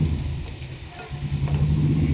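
Garlic fries in oil for an ambazhanga pickle, a steady dense sizzle with a low rumbling undertone that holds throughout, no talking.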